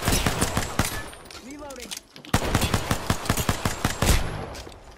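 Peacekeeper shotgun fire in Apex Legends, a burst of sharp gunshots and rapid fire ringing through much of the stretch, with a pause near the middle and someone talking over the shooting.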